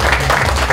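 Audience applause at a tenth-anniversary celebration in Houston, a dense, steady wash of clapping under a low background hum, continuous through the moment with no clear speech.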